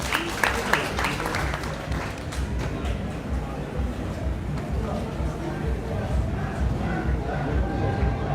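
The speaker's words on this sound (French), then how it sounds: "Vos applaudissements, s'il vous plaît" A crowd at a political support rally in Mali applauds a called-up speaker with a thick, continuous wash of clapping and crowd noise that holds steady for the full stretch.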